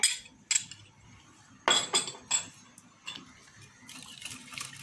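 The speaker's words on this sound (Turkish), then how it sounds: "ve karıştırıyoruz. Kıvamını yakalamak için." A spoon stirs a thick çemen spice paste with ginger in a bowl, making intermittent sharp clinks and scrapes in uneven bursts at close range. No one speaks.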